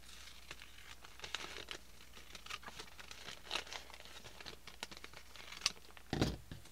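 Scissors snip through a folded paper letter pocket in a crafting project, giving soft scattered crinkles and cuts with a sharper crunching snip near the end, quiet and close with no talking.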